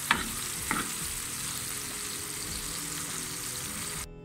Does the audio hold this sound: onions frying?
yes